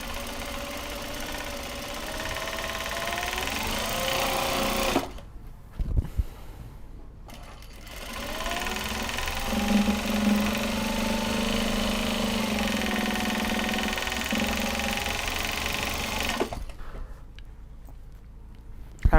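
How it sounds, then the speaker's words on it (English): A sewing machine runs in long loud stretches with a steady mechanical hum, stopping briefly between runs with short clicks and handling noises. "listen to the very loud sounds of my sewing machine"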